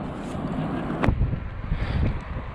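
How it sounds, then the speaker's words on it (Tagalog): Gusty wind buffets the microphone during a bike ride by the Humber River in Toronto, with loud, rough rumbling and a few sharp bumps, steady throughout the short stretch. "Lakas ng hangin mga master"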